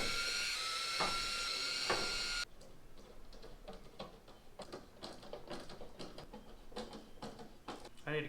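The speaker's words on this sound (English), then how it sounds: "get a tiny little drill bit and pre-drill into the plastic so we can screw this down" A small drill bit bores into a plastic door panel for a custom Diesel Beetle build, a high whining buzz for about two seconds followed by scattered clicks and handling noises.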